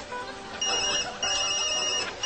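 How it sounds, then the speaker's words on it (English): Telephone ringing in two electronic trilling bursts separated by a short gap, fairly loud and close. "my phone's been ringing off the hook."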